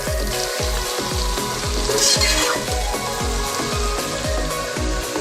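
Marinated chicken frying with onions in a pan for biryani, loud continuous sizzling with a regular rhythm of stirring scrapes, close up.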